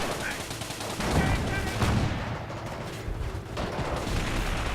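Tank and anti-tank gunfire in a Company of Heroes battle with an M10 Wolverine tank destroyer facing a StuG: a dense, steady barrage of booming shots and crackling fire, loud and continuous with a few heavier blasts.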